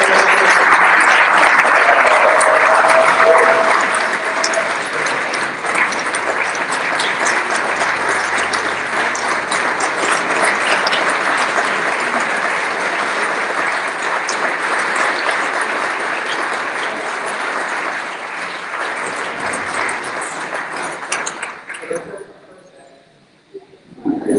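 Sustained audience applause at the welcome dinner of the 2022 CHHSM 84th Annual Gathering as a speaker is welcomed, loud dense clapping that holds for about twenty seconds before thinning and fading out.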